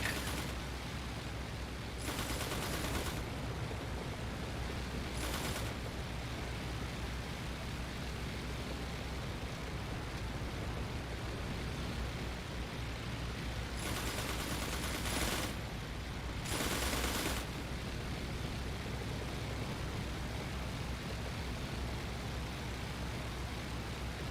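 Aircraft machine-gun fire in the Flying Circus flight game, several loud bursts of rapid shots cutting through a steady engine drone, with two short bursts early and two longer bursts later.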